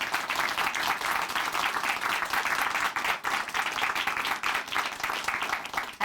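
Studio audience applause on a Korean Christian testimony show, a dense, steady wash of many hands clapping that carries on for about six seconds with no talking.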